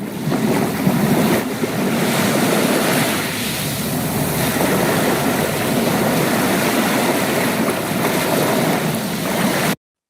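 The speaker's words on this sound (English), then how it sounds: "The sounds of the ocean." Ocean waves play back as a recording, a continuous loud surf wash with gusty wind noise and no voices, cutting off abruptly near the end.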